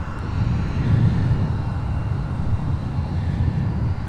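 A United E-175 regional airliner sitting on the airport tarmac, its engines giving a steady, fairly loud low rumble and whine throughout.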